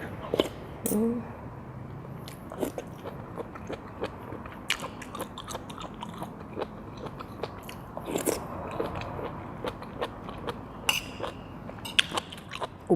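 Crunchy chewing of large stir-fried oyster mushrooms cooked in oyster sauce, eaten with hot rice, with close, crisp bites and soft mastication repeating irregularly through a quiet room.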